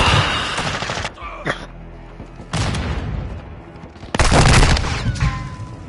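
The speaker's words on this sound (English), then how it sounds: "Throwing flash grenade." Loud, sharp bursts of gunfire and booms go off in Modern Warfare II around a thrown flash grenade. Three dense blasts are separated by brief quieter gaps.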